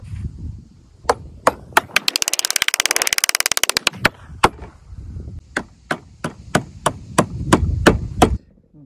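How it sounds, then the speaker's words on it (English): Long nails are hammered into wooden arches, sharp loud strikes in a steady series, with a fast rattling burst of rapid blows early on, close and without voices. "So I took a longer nail so I can hammer them in and bend the ends."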